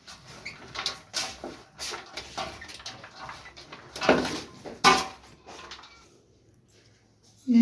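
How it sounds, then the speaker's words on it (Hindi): Vegetables being mixed by hand in a bowl during home cooking: irregular soft clatters and rustling scrapes of varying loudness, with a brief voice at the very end. "तो माशाल्लाह ये सब्जी मेरी अच्छी तरह मिक्स करूँगी"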